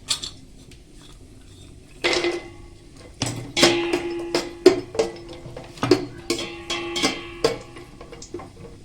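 Raisins and cashews frying in ghee in a pan are stirred, with sharp clinks and scrapes of a spoon against metal coming in irregular bursts over a low sizzle, close and fairly loud.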